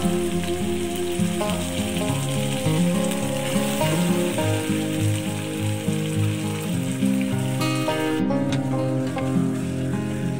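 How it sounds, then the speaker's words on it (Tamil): Raw mango pieces sauté in oil with mustard seeds, making a steady crackling sizzle. Background music runs under it the whole time. "அந்த எண்ணெயில் நல்லா வதக்கி எடுத்துக்கணும்."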